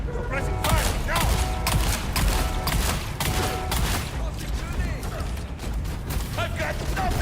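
Rapid suppressing gunfire in the Dune video game during a dungeon run, dense bursts of shots and mechanical clatter fairly loud and continuous, with voices speaking over the action.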